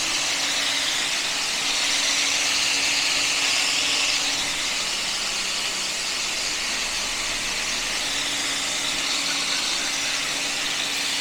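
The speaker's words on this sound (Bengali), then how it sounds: "খুব বেশি ভাজবো না, হালকা হালকা করে একটু ভেজে নেব।" Eggs fry lightly in a pan for an egg posto curry, a steady, close sizzle and hiss that stays even throughout with no talking.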